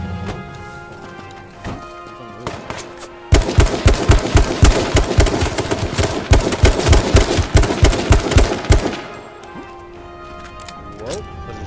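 Rapid automatic gunfire in a shooter video game fills a steady burst of about six seconds, set against a continuous background of game sounds.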